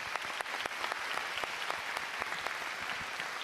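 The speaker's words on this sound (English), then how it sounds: "A round of applause for Kylian Drumont." Crowd applause for the winner of a Gran Turismo GT World Series 2024 Nations Cup esports race in Tokyo, steady and dense, filling the whole stretch with sharp scattered claps.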